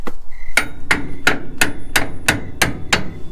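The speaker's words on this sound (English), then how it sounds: "Because we have a hammer." Eight sharp hammer blows strike in a steady, evenly spaced rhythm, loud and close, each with a metallic ring, while fitting a front drop kit on a 1983 GMC C10 pickup.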